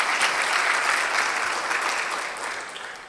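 Big round of applause from an audience at the 2019 Falak UTS opening speech, dense steady clapping that fills the moment and slowly tapers off toward the end.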